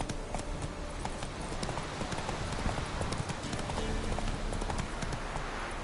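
Roach the horse trots in a video game, hooves clopping in a steady, busy rhythm over a dense background of ambient game noise.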